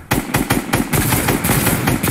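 Rapid automatic gunfire in Fortnite, a loud continuous stream of evenly spaced shots rattling close and dense for about two seconds with no voices.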